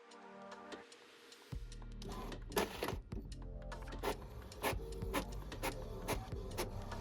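An inkjet-style home printer runs off a poster slightly smaller than A4, giving steady mechanical ticking and clicking with repeated carriage thunks and a low motor hum, close and fairly loud throughout.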